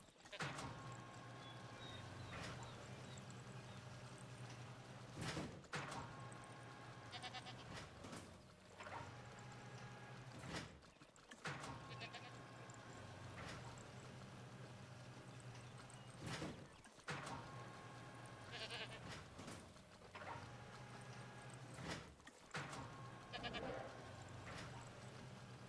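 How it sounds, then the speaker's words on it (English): Goats bleat again and again in a Jurassic World Evolution 2 park, with several calls standing out over a steady hum of game ambience and clattering hoof-like sounds. "I wonder what these goats need."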